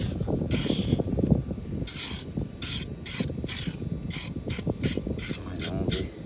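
Repeated rough scraping bursts of a shovel or scoop digging into sand on a beach while metal detecting, a steady rhythmic rasp with a faint voice underneath.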